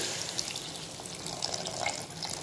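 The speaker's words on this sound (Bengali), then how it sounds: "দিয়ে দিচ্ছি জল, পরিমাণ মতো জল" Water is poured into a pan of Bengali fish kalia curry, a steady close splashing trickle running throughout with no talk.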